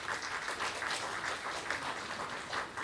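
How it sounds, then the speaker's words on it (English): An audience applauds speakers at a professional conference talk on tiling and waterproofing in wet rooms, with even, sustained clapping from a modest crowd and no talking. "let's give them both a round of applause"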